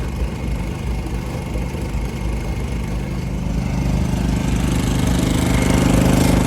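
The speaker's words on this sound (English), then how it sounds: "Got the Honda started" A Honda outboard motor on a Bayliner boat at a dock runs steadily close by, a continuous low droning hum that grows slightly louder and rougher toward the end, with no talking.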